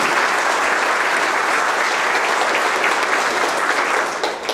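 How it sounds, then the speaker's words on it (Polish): Sustained, dense applause from a large audience at a scholarship gala in the Olsztyn county offices, steady and loud throughout before tapering slightly at the very end. "Oklaski dla gminy."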